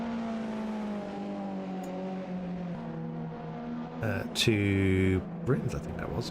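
An Alfa Romeo Giulietta TCR race car in the UK TCR championship brakes into a corner, its engine note rising and falling with sharp downshift blips near the end, under a commentator talking throughout.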